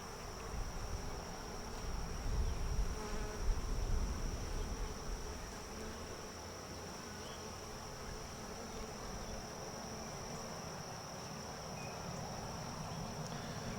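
Honey bees swarm around an opened beehive, giving a dense, continuous buzzing drone that is fairly faint and swells a little early on before settling into a steady hum.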